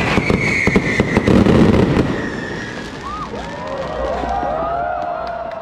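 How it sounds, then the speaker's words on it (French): A fireworks finale at the Yanshui Beehive Festival crackles with dense, rapid bursts and whistling rockets nearby, the barrage thinning into scattered pops and whistles while a crowd murmurs underneath. "5 minutes non-stop qui ont terminé sur un feu d'artifice"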